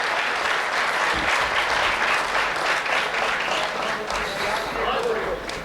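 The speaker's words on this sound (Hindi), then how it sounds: "तालियां कमजोर हैं" Audience applause at a Hindi comic poetry gathering, a steady crowd clapping that holds loud and even for several seconds with faint voices mixed in, easing slightly at the end.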